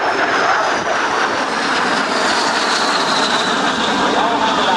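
An L-39 Albatross jet with an AI-25 turbofan engine roars loudly and continuously at an airshow, with a broad, rushing engine noise that stays steady throughout.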